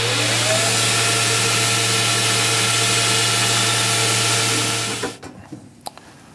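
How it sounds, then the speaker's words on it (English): A tool post grinder on a lathe, fed along by an electronic leadscrew, whines with a steady loud motor hum and a constant low drone for about five seconds before it stops, leaving a few faint knocks. "Close the half nuts, we can feed the grinder."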